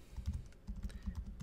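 Computer keyboard typing a name, a short burst of soft, quick, close key taps in an uneven rhythm.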